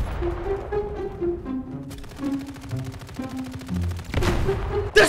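Rapid automatic fire from a SAM turret in a video game, a dense mechanical rattle running steadily for several seconds beneath tonal game music, with a louder burst near the end.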